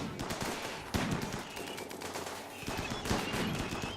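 Colonists firing on a crashed ship part in RimWorld, a rapid, steady stream of close gunshots with a few heavier cracks standing out, continuing without pause.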